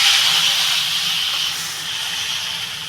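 Water poured into a hot pan of fried prawn heads, giving a loud, close, continuous hiss of steam that fades slightly over a few seconds.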